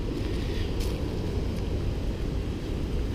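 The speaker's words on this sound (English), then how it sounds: "I have 60-mile-an-hour winds out here, or gusts." Strong wind gusting up to 60 miles per hour roars and buffets against the microphone, a dense, continuous rumble with no pauses or voices.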